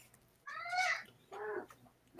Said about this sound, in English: It sounds like the cat has joined the conversation.